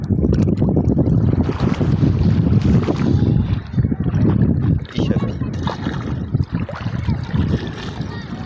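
A boat moving across Lake Tanganyika, a steady engine rumble and water rush mixed with heavy wind buffeting, continuous and close.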